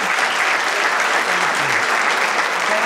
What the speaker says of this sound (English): can we give Trevor a round of applause and thank him for being here?